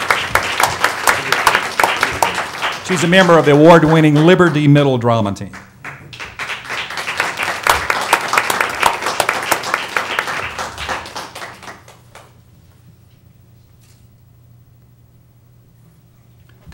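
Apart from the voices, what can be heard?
audience applauding a student at board meeting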